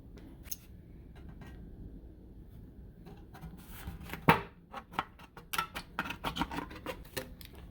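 A piece of roof flashing is cut with a tool in a string of sharp, crisp snips and clicks, close by. The cuts grow quicker and louder toward the end over a low background hum.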